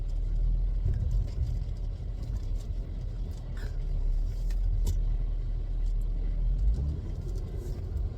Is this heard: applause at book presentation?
no